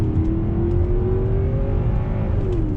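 A Genesis G90 V8 luxury sedan accelerates under throttle, its engine note a rising, smooth hum beneath deep road rumble heard from inside the cabin, muted and continuous.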